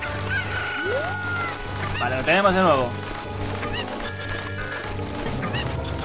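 Chicken-like squawks and honking calls from a Cucco in Zelda: Ocarina of Time at Lon Lon Ranch (Master Quest), repeating over game music, with someone speaking Spanish over them.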